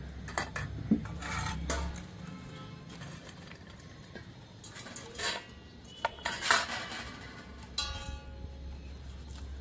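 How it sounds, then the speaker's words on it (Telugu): A knife cuts dried mutton into thin pieces, giving scattered clinks and taps of metal on a plate or board at irregular intervals, quiet and close, against low background hum. "ఇప్పుడు ఈ ఒట్టి ముక్కలు సన్న సన్న పీసులుగా కట్ చేసుకోవాలి."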